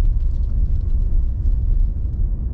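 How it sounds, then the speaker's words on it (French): A Mazda car accelerates through a bend, a deep, steady engine drone and road rumble heard from close by, continuous and without voices. "Ah, la voiture est plutôt réactive."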